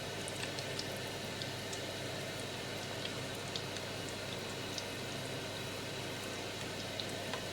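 Chicken pieces frying in bubbling oil give a soft, continuous crackle and pop, fairly faint and even throughout, with no talking.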